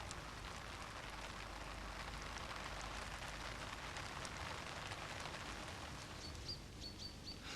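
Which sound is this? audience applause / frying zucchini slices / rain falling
rain falling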